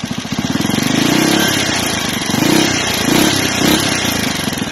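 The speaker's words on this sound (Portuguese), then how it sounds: "o barulho que o escape ficou depois de colocar a chapa e 2 goelas lá" A Pro Tork motorcycle with its exhaust muffled by an inserted plate and two baffles idles in quick, even pulses, then revs up slowly several times in smooth, subdued surges, close and alone.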